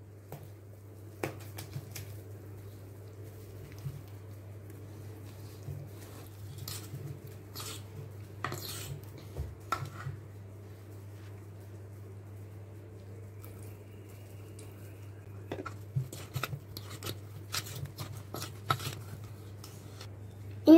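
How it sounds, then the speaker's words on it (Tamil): Cake batter made with wheat flour, vanilla essence and milk is stirred by hand in a bowl, giving faint, irregular soft scrapes and taps over a low steady hum. "கொஞ்சம் கொஞ்சமா ஊத்துனதுக்கு அப்புறம் லைட்டா mix பண்ணிக்கோங்க"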